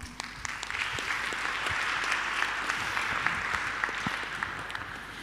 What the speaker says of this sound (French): bien évidemment, par des applaudissements.